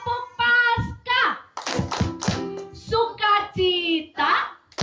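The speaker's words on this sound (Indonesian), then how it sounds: "Tepuk Paskah" A congregation at an outdoor Easter service claps in rhythmic bursts in time with loud group chanting, the sharp claps bunched together between sung phrases.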